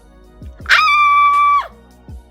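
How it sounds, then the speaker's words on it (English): A person lets out a single loud, sustained high-pitched excitement scream lasting close to a second, sharp at onset and cut off cleanly, bracketed by a few soft thumps, close to the microphone. "let me just scream."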